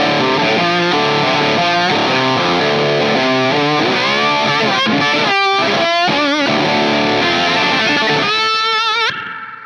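Distorted electric guitar played through a Suhr Reactive Load with an impulse response, a loud, continuous riff of chords and single notes with a bright edge, ending abruptly.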